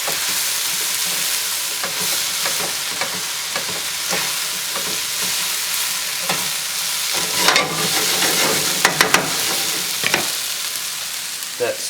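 Portobello mushrooms sizzle steadily in a hot stir-fry pan, a loud continuous fry with crackling bursts and occasional scraping stirs, heard up close with no talking.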